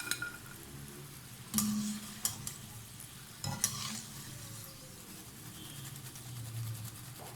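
Potato fries frying in hot oil for loaded garlic mayo fries, a steady low sizzle with a few stirring clanks and scrapes, heard close and alone.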